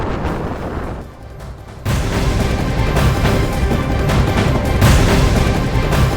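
Loud, continuous rumbling blasts and crackling bangs that suddenly intensify as a firecracker factory explodes in Harda, Madhya Pradesh, a string of explosions going off with no voices.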